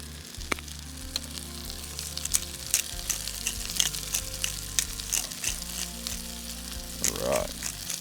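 Potatoes fry with sausage in a pan at a camp cookout, giving off a continuous crackling sizzle scattered with pops and occasional stirring scrapes, heard close up and without talk.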